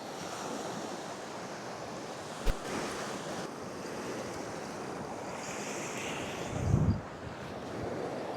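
Strong wind roars steadily over the sea at Perakula during a flounder fishing trip, with surf washing behind it and a gust buffeting the microphone, with no talk.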